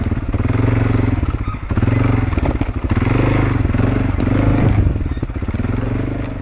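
A quad bike engine drones loud and steady on a freshly raked enduro track, revving up and down with rattles and clatter close by.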